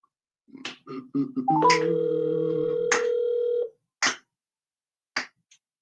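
Outgoing phone call: a few keypad beeps, then a steady ringback tone lasting about two seconds, followed by short separate beeps, all clear and close with no talking.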